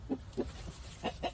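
Chickens cluck softly in a farmyard coop where hens have just laid eggs, giving a string of short, faint, irregular clucks over low background noise.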